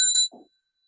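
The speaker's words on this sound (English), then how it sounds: "Can't bow without bells." A single bright bell used in Buddhist bowing practice strikes once with a sharp metallic ring, followed by a soft muffled knock as it quickly dies away to silence.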